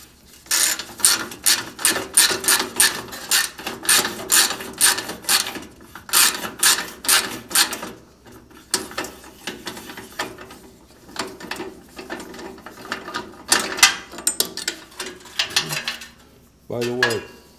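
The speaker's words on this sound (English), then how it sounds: "is to remove the bolts that hold the cabinet to the saw top" A socket ratchet backing 9/16 bolts out of the cabinet of an old Sears contractor table saw, sounding as rapid clicking bursts repeated in close, loud runs with short pauses, ending with a faint metallic clink.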